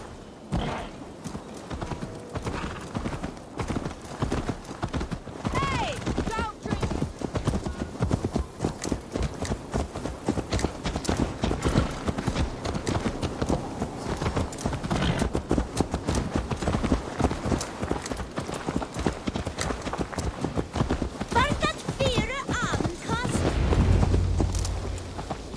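Horse hooves clip-clop in Assassin's Creed Valhalla, a steady rhythmic stream of hoofbeats running through the whole stretch under game speech and background sound.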